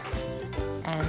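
Chopped garlic sizzles in hot extra virgin olive oil with a steady, close frying hiss, broken by a few soft bumps of stirring or pan movement.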